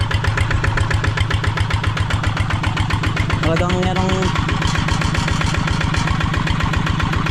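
A loud engine idles at a rice paddy being broken up for tilling, with a steady rapid chugging throb throughout, while someone talks briefly over it.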